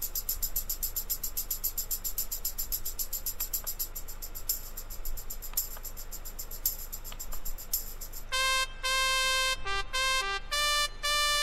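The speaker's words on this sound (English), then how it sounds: "Click on some frogs to start your tune." Cartoon frog voices in a Dora the Explorer click-and-play game chirp in a steady repeating rhythm, then shift into a brighter, bell-like musical tune of short sustained notes near the end.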